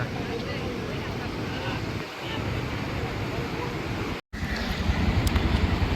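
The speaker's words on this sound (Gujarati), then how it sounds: "અહીંયા જો પુલ ઉપરથી પાણી ગયા" Floodwater rushes over a bridge near Bhavnath in rain-soaked Junagadh, a loud, steady roar of flowing water mixed with wind buffeting, briefly cut off near the end, with people talking.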